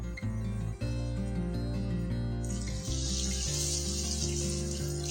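Water, about half a cup, pours steadily into a pan of raw mango, a hissing splash that starts partway through and runs beneath loud background music.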